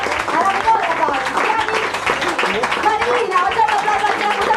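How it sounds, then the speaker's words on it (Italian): Long applause from a dinner audience honoring a sommelier and chefs, steady brisk clapping from many hands under a person talking over it throughout. "Facciamo un applauso lungo"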